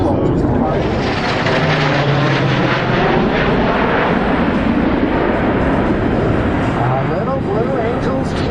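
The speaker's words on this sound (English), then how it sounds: "as our Blue Angel solo just departed." A US Navy Blue Angels solo jet, No. 4, takes off at the 2012 Sioux Falls Air Show with a loud, steady roar that fills the whole stretch and rumbles broadly without letting up.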